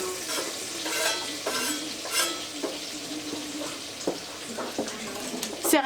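Two thinly sliced onions fry in butter in a home kitchen pan, a soft, steady sizzle broken by scraping stirs and occasional utensil clinks, heard up close at a modest level.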